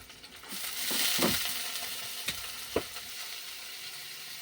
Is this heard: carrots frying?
yes